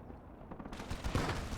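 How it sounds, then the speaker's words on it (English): An autocannon fires in a Warhammer-style war video game featuring the Armageddon Steel Legion faction, heard as a rapid burst of heavy reports that grows louder and denser toward the end. "Here, the auto cannon. Get ready."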